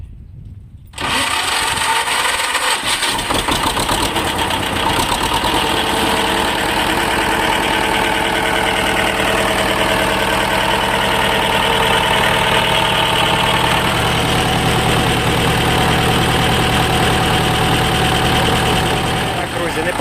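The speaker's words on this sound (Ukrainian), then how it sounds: "Повітря десь тягне, але, але мотор працює нормально" A T-25 tractor engine starts after a test start and settles into a steady, loud, close idle with a rapid mechanical chug that continues throughout.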